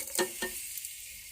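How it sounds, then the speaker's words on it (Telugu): Spices and lentils tip into hot oil in an electric rice cooker, giving a short burst of sizzling with a couple of quick stirring scrapes, then a soft, steady hiss of frying. "ఈ పోపులు మనం తీసుకున్నవన్నీ వేసేస్తున్నాను"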